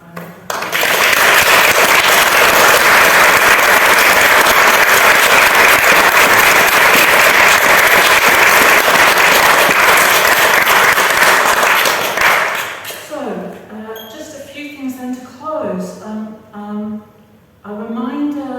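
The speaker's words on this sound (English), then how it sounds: "let's give Kit another round of applause" Loud sustained applause from an audience at a book launch, dense clapping for about twelve seconds before fading out as a voice begins speaking.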